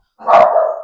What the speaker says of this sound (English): I'm sorry for my dogs barking